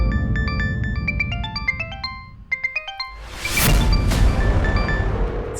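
A mobile phone rings indoors with a bright melodic ringtone of quick repeated chiming notes, cut by a sudden whooshing crash that fills the second half.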